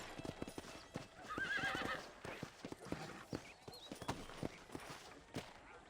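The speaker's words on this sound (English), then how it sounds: "I'm gonna name my horse Nightshade." Horse in the Red Dead Redemption Wild West game, with steady clip-clopping hooves throughout and a clear whinny partway through, faint background ambience and no speech.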